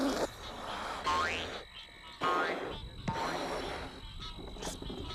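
A stretched balloon mouth releases air slowly, imitating a frog's croak with a series of loud, squeaky, rubbery bursts separated by short gaps, close and alone.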